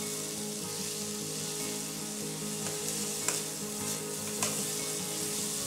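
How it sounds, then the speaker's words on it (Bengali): Capsicum, beans and chopped spring onion sizzle hard in a pan over a high flame for chicken fried rice, a steady close crackle throughout with a couple of sharper clatters from stirring. "এই সমস্ত সবজিগুলো অ্যাড করার পরে আবারও হাই ফ্লেমে 3 থেকে 4 মিনিট ফ্রাই করতে হবে"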